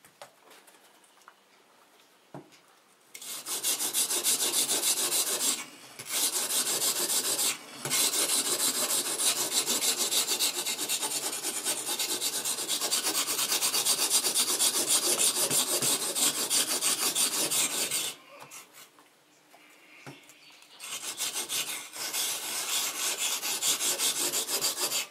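A chisel is sharpened by steady rhythmic rubbing strokes on a stone. The long loud scraping passages are close and continuous, broken by brief pauses, with no talking.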